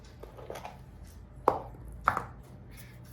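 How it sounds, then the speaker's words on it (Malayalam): Round dried chilies crushed by hand into fermented rice gruel, giving a few soft thuds and then two sharper cracking knocks about half a second apart, close by with no talking. "ഉള്ള ഉണ്ടമുളക് ഞാൻ ഇത് ഇതിനകത്ത് ഉടയ്ക്കാൻ പോവാ"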